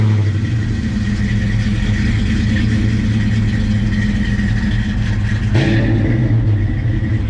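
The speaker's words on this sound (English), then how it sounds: "You can't beat that old push rod sound, Casey." A 1993 Ford Mustang Cobra Fox Body's low-mileage pushrod V8 starts and rumbles loudly and close, its deep throaty idle holding steady before a brief rev near the end.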